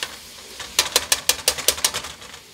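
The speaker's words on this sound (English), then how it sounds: "you want to stir once again, like I said, the onion" A spoon stirring onion and meat in a pot of meat sauce, about ten quick, crisp clicks and scrapes in a steady rhythm, close and moderately loud.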